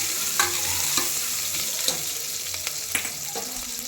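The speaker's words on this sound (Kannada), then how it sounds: "ಈರುಳ್ಳಿ ಆ್ಯಡ್ ಮಾಡ್ಕೊಂಡಿದ್ದೀನಿ. ಇನ್ನು ಸ್ವಲ್ಪ ಫ್ರೈ ಮಾಡಬೇಕು" Onions frying in a pan give a steady, close crackling sizzle, with a few sharp scrapes and clicks of a spatula stirring them at irregular intervals; no voices.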